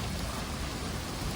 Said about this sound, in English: It's just gonna be heavy rain now.